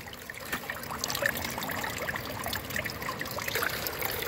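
Clear mountain stream water trickling steadily over rocks outdoors, a continuous close babbling wash with small bright splashes throughout and no voices.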